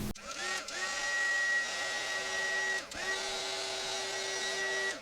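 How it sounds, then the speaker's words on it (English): A low-temperature heat gun used on resin art blows with a steady whirring hum and whine, briefly cutting out and restarting twice, fairly close. "We're going to take the low temp heat tool."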